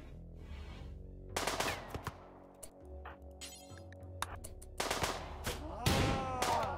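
Gunfire in the video game RimWorld, several sharp shots in quick bursts with metallic clinks between them over a low game soundtrack.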